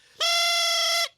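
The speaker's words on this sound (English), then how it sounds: "This is called a thrump warbler." A silly-sounding cartoon elf wind instrument called a thrump warbler plays one bright, buzzy sustained note for about a second, loud and alone with no talking.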